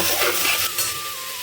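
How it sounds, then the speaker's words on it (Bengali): Squash, potato and soybean chunks frying in oil in a pan, a close, steady hiss with stirring scrapes and light clinks that gradually settle into a quieter sizzle. "আমি স্কোয়াশ আলু আর সোয়াবিনটা দিয়ে ভালো করে এবারে ভেজে নেব"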